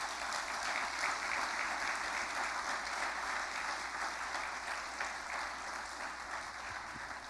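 A church congregation claps steadily and loudly for the whole stretch, dense sustained applause with no break and no voices rising above it.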